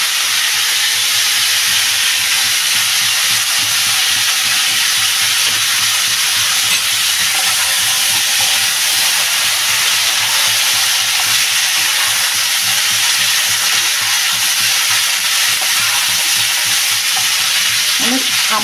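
Ingredients are poured into a hot pan for a village-style stem and fish curry, setting off a loud, steady sizzle and hiss of frying that continues unbroken throughout.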